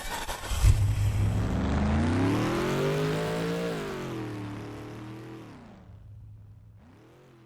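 A vehicle engine in an Unreal Engine 5 game drones and revs up, its pitch rising and then falling as it recedes and fades into the distance, with a brief faint return at the end.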